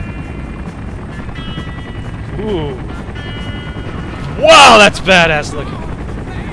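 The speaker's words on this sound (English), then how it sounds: "Helicopters everywhere." Helicopters thrum steadily in Call of Duty: Black Ops, a constant rotor drone under a man's excited remarks, with sharp bursts like gunfire or explosions breaking through midway.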